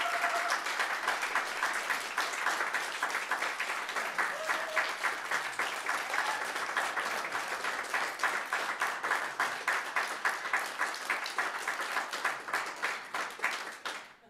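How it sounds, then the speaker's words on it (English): A room of attendees at a church's annual meeting gives a long round of applause for departing board members, steady clapping that gradually thins into a few rhythmic claps before stopping. "I just want you all to give a rounding applause for these people that are leaving the board this"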